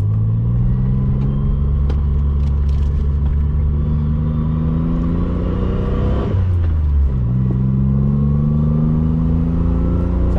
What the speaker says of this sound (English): here we go, testing out the short shifter.